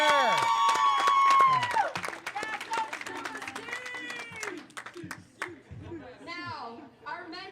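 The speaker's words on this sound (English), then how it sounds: "So ladies, you deserve to give him a round of applause." An audience at a bowling tournament claps and cheers, with whoops and raised voices over scattered applause that gradually thins out.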